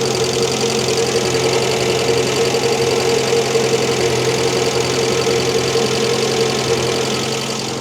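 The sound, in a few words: Renault 5 Gordini engine idling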